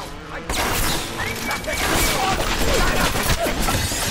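Gunfire in the video game BioShock comes as a dense, loud, continuous barrage of shots and crashing impacts, with game noise filling the whole stretch.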